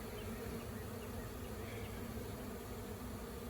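Bees buzz around a hive built inside the wall of a house, a dense, steady hum that holds evenly the whole time at low level with no voices over it.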